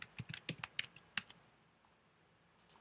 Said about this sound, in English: So I'm going to type that in and put my password in.